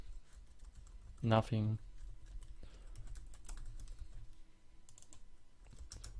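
Soft, scattered keyboard taps from a computer keyboard while code is written in the Lazarus IDE, faint and irregular behind a hum, with a short spoken word early on.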